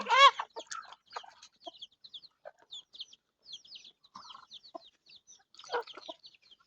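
Chickens clucking at close range, a series of short irregular clucks and calls with quiet gaps between them.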